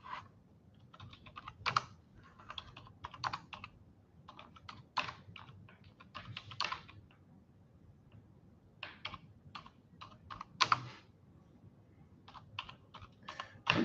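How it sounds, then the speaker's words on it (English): Irregular clusters of computer keyboard clicks tap out in quick bursts with short pauses between, close and fairly quiet, with no voices. "I'm just typing something here."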